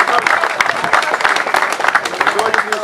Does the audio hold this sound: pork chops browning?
no